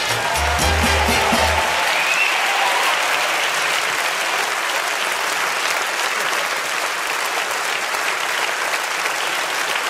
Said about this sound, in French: Vous pouvez applaudir Manu Koeman et Laurent Capelluto.